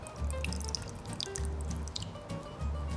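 Water is poured into a shallow bee water dish until it just covers the small islands, making close, gentle trickling and dripping sounds throughout.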